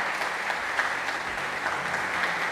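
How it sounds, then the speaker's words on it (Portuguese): Church congregation applauds loudly and steadily, a dense, even roar of many hands clapping that holds throughout. "Dê um aplauso a Jesus bem forte."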